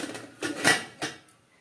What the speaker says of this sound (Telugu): కలిపేసి ఒక 2 నిమిషాలు మనం మూత పెడదాము.